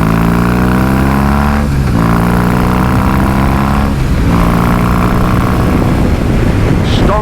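A BMW R18 Custom motorcycle pulls away and accelerates, its loud engine climbing through the gears in three rising sweeps with brief dips at each shift, steady and close throughout.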